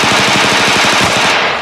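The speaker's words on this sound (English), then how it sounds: "Gunfire erupted, tearing through the silence of the forest." Loud sustained machine-gun fire in a nighttime military attack on a forest den, a rapid even rattle of close shots that fades slightly at the end.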